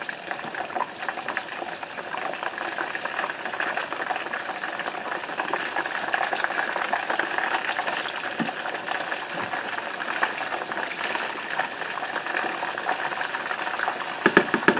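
Chicken fritters frying in a pan after being flipped, a dense, steady bubbling sizzle that holds evenly for the whole stretch, close and moderately loud with a few faint knocks near the end.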